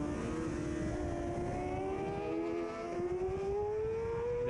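Supersport racing motorcycles at the Cookstown 100 road race keep up a continuous high-pitched engine whine that climbs steadily in pitch as they accelerate, loud and sustained, with no speech.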